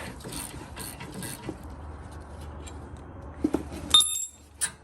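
Ratchet wrench loosening the glide pin bolt on a Ford F150 rear brake caliper, giving rapid metallic clicking bursts, close and fairly quiet, ending with a few sharper ticks.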